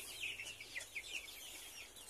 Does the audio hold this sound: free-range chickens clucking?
yes